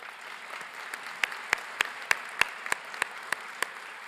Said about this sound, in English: while we recognize him with our applause